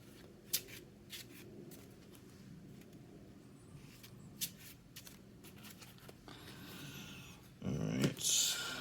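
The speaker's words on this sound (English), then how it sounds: "I'm gonna shuffle." Cards from a DC deck-building game deck being shuffled, with faint, scattered riffling and flicking snaps across the stretch and a busier burst of shuffling near the end, all quiet and close.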